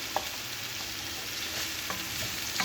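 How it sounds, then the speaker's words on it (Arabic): Zucchini and broccoli sautéing in a pan, a continuous soft hiss of frying with occasional faint utensil taps, steady and fairly quiet throughout. "نسحر القرعه مع البروكولي"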